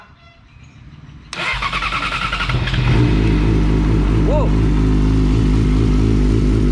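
A 2017 Yamaha R6 four-cylinder motorcycle engine cranks and fires up after three months unused, then settles into a loud, steady rumbling idle close by, with a brief exclamation over it.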